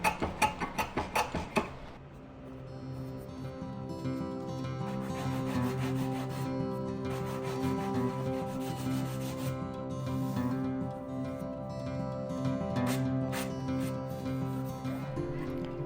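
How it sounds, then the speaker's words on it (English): A hand planer shaping the bevel on a walnut side table: several quick scraping strokes at the start, then a long, steady rasping rub of the blade across the wood, close and moderately loud. "We'll just do that with a hand planer here."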